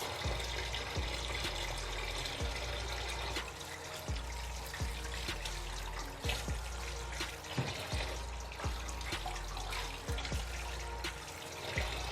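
Steady running water splashes continuously, with repeated soft knocks and rubbing sounds as uziza vegetables are rinsed and handled under the stream to wash out sand.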